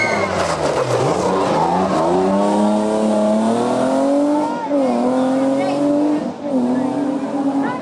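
Rally car accelerating hard on a stage at the Rallye Sur do Condado 2022 in Salceda de Caselas, its engine note climbing through the gears with loud, close revving, tire noise and a spectator voice speaking over it.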